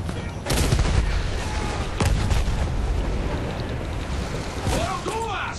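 Gunfire and explosions in the World War I shooter Battlefield 1 during a trench assault, a dense, loud continuous din of shots and blasts with shouted voices over it.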